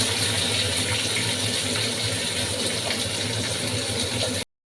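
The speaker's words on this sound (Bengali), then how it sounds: "দেখুন কিছুক্ষণ এইভাবে নাড়াচাড়া দিয়ে দেবো" Tomatoes and bay leaves are stirred in a hot pan for a few seconds, giving a continuous close sizzle with light scraping, no talk, before ending abruptly.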